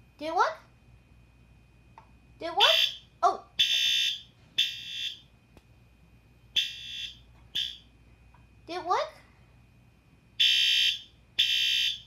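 Three System Sensor fire alarms go off indoors, sounding loud, shrill repeated beeping bursts in an irregular overlapping pattern, with rising electronic tones and people talking between the blasts.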